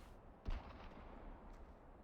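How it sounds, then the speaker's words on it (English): A distant gunshot cracks once, faint and short, over a low steady background in Farming Simulator 17, with a weaker possible second report later. "And I'm hearing gunshots. I swear I'm hearing gunshots."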